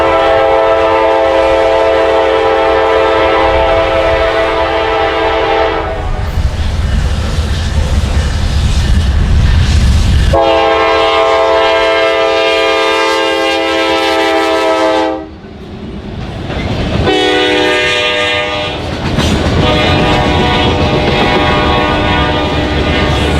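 Norfolk Southern manifest freight train 14E passing near New Haven, Indiana, sounding its horn in several long loud blasts separated by the heavy rumble and clatter of the rail cars rolling by close up.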